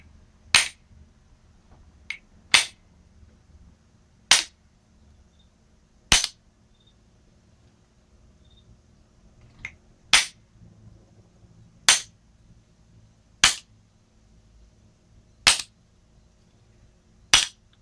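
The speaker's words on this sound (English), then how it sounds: "just giving it nice taps, trying to tap straight down, rotate each time, and there it is, off" Hammer taps knocking a steering shaft off on an 82-92 F-body steering shaft modification, about ten sharp, evenly spaced metallic knocks, close and loud over a quiet background.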